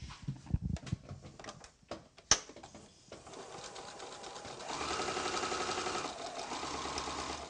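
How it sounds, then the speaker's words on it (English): A sewing machine stitches quilt fabric squares diagonally from corner to corner. A few sharp handling clicks and taps come first, then the machine runs in a steady, close mechanical whir with a brief change in pace. "we're going to sew corner to corner across the diagonal, there to there."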